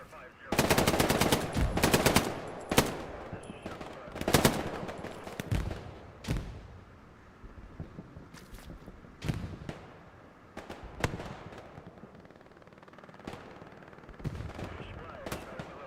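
Machine gun bursts crack in the World War II shooter Hell Let Loose on the Hurtgen Siegfried Line map, with loud close volleys at first and then scattered fainter shots and distant fire.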